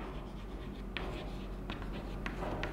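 Chalk or marker writing on a board during a math lecture on expanding a determinant, with faint scratchy strokes at a steady low level and no talking.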